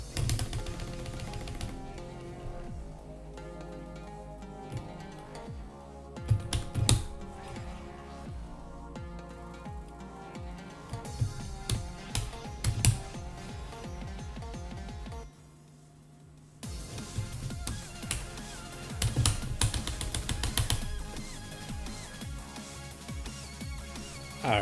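Fight stick buttons are mashed rapidly while playing Street Fighter V, a steady rattle of clicky plastic presses mixed with game music and effects, with a brief lull in the middle.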